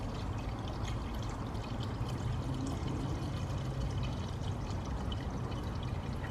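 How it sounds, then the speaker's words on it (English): Reducer being poured into an automotive paint and hardener mix, a steady, close liquid pour that runs continuously without a break and with no voices. "next I'm gonna be pouring in my reducer."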